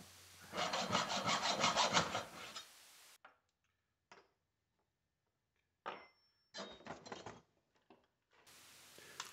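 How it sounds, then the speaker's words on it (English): A dull hacksaw blade cuts brass tube in rapid rasping back-and-forth strokes, close and fairly loud, in several short bursts separated by silent gaps. "And once again, the dull hacksaw blade,"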